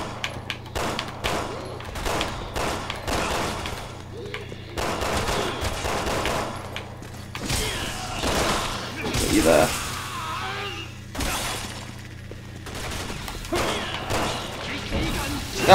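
Rapid bursts of gunfire crackle through a Resident Evil 6 firefight, with repeated volleys and scattered single shots over a steady background hum while someone talks over the action.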